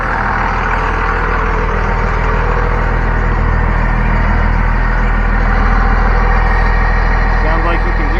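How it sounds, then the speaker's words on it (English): A Cummins diesel truck engine fitted with a cold air intake and turbo runs loud and steady close by, a deep rumbling drone throughout. "sounds like you can hear the turbo a little bit more"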